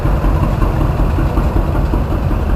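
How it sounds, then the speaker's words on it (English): A 1947 John Deere B tractor engine at a hometown tractor show runs with a loud, steady low rumble and throb, continuous and close, with no talk over it. "we have Jason Baker from Alex, Kentucky on a 1947 John Deere B"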